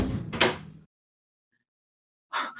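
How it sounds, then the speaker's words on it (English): A door slams shut with a solid thud, followed after a pause of silence by a fainter rattle of the latch or lock being worked. "lock the door behind you"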